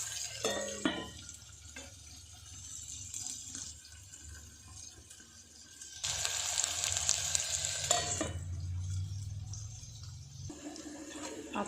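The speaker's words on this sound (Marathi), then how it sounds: "हे सर्व छान मिक्स करायचं आणि याला लो फ्लेमवर" Maggi fried rice with shredded cabbage is stirred and tossed in a pan, with steady sizzling and frying throughout and a louder burst of scraping and sizzle in the middle; no voices.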